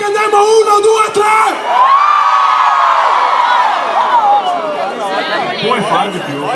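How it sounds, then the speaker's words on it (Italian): A large crowd of girls at a live festival in Treviso screams loudly in a sustained, high-pitched roar close by, with chatter and yelling mixed in and a voice briefly heard at the start. "Vorrei sentire il mio tre, un urlo molestissimo di tutte le tose di campagna."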